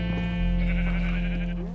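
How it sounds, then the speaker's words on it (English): A sheep in the video game Minecraft gives one sustained, wavering bleat, loud and close with no talk over it. "I'm gonna kill this sheep, it's just gonna get in the way."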